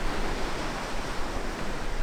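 Ocean waves surging onto the sand at Ballintoy on the Northern Irish coast, a steady, loud broadband wash of surf with some wind rumble and no voices.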